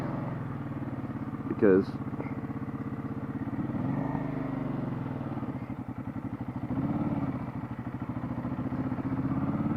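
Motorcycle engine with loud exhaust pipes runs steadily throughout, a deep pulsing idle rumble close by, with a person talking over it and a brief sharper burst near the start.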